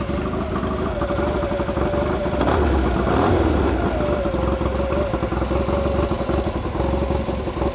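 A Ducati Desert Sled motorcycle with a freshly rebuilt top end idles steadily close by after being kick-started, its engine giving a loud, even, throbbing chug with a slight clatter.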